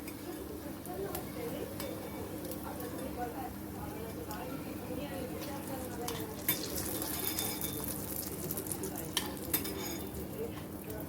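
Ajwain leaf bhaji frying in hot oil gives a steady, moderate sizzle throughout, broken by a few clinks of a utensil against the pan, while someone talks over it.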